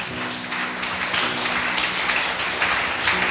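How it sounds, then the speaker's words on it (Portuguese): A church congregation clapping in praise of Jesus, a steady mass of applause in a hall with a faint sustained tone underneath, no voices over it. "Você pode glorificar a Jesus com as suas palmas"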